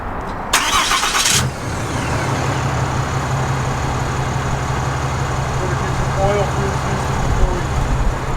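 A cold RAM Cummins diesel truck engine cranks briefly and catches, then settles into a steady low, rumbling idle with a faint clatter, heard close up while people talk nearby.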